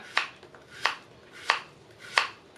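Four evenly spaced crisp knife chops as unripe bananas are sliced thin on a cutting board, each cut a sharp close tap with short pauses between, no talking.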